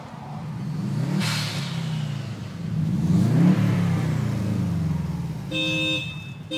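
A Subaru engine revs and accelerates, rising and falling in pitch as it speeds up, loud and close, with a brief chime near the end.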